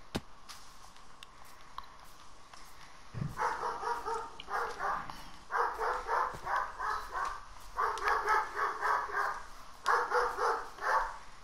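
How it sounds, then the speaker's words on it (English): A dog barks repeatedly in a steady rhythm, loud and fairly close, with short pauses between bursts of barking. "The dog's barking doesn't make it any better."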